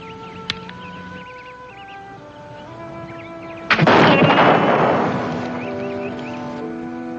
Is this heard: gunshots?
yes